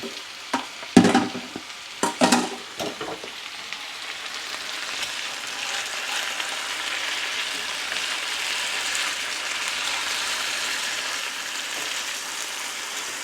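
Onions being stirred into a sizzling mixture for cornbread, beans and fried potatoes, a few sharp scraping clacks at the start giving way to a steady, close frying hiss with no talk.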